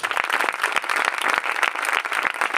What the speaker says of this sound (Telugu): ఒకసారి అందరూ చప్పట్లు కొట్టండి.